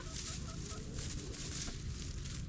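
Chickens clucking inside a barn used as a temporary shelter during an icy thaw, a steady murmur of soft clucks and bird noise over continuous background din, fairly close with no clear pauses.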